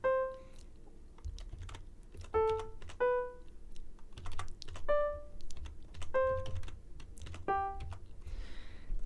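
Keys are pressed on a computer keyboard to enter notes in notation software. The clicks come in sparse, irregular single taps, each followed by a short synthesized playback note, close and quiet.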